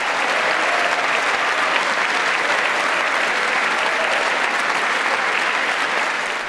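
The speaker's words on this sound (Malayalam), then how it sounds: "എഴുന്നേറ്റ് നിന്നു കൈയടിച്ചു ഭരണ പ്രതിപക്ഷ" Members of the US Congress give President Biden a standing ovation, a dense, loud, sustained wall of clapping from a large chamber crowd, continuous throughout with no voices standing out.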